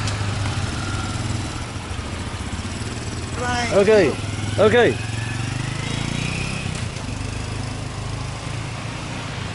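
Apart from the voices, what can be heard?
Honda small motorcycle engine idling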